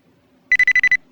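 A phone rings in a Minecraft series scene: six quick, evenly spaced electronic trills in a fast burst, loud and close, after near silence.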